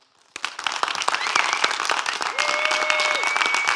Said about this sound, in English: If you would, everybody, if you'd just like to give him an applause.